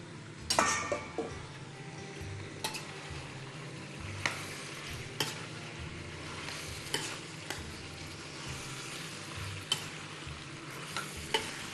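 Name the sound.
stir-frying peppers and vegetables for kebab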